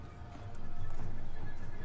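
Variag horse archer cavalry in the Third Age: Total War game gallop in a massed rumble of hooves that swells and holds, with a faint whinny in the mix.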